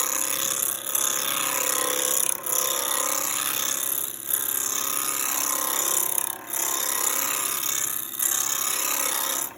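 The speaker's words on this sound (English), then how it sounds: "Using a roughing spindle gouge. Speed's about 1400 RPM. Now I'm gonna turn it up." A wood lathe spins a mortar blank at around 1400 RPM while a roughing spindle gouge cuts it, giving a steady, close, rasping scrape with a few brief dips where the tool lifts off.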